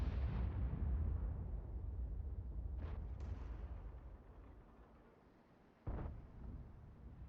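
Artillery fire in World of Tanks booms in a loud opening blast that decays into a long rumble, then a second sharp explosion follows, with a fainter pop between.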